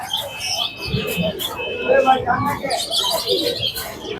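Racer and Giribaz pigeons cooing and birds chirping at close range in a busy pigeon market beside a produce market in Mirpur, mixed with people talking nearby.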